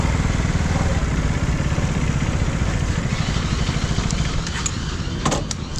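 A Duke 250 motorcycle runs at a mechanic's garage, its engine chugging steadily and loudly throughout with a dense, even rhythm, and a few sharp metallic clicks near the end.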